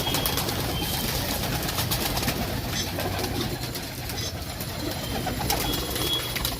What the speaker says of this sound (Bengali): সব পায়রাগুলো ছেড়ে দেওয়া হয়েছে এখানে